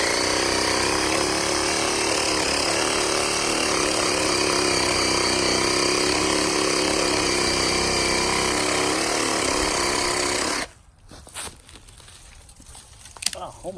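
A BLACK+DECKER 20V Max lithium cordless reciprocating saw cuts through branches outdoors, a loud steady buzzing rasp for about ten seconds before it stops abruptly, followed by quiet rustling and a few brief knocks.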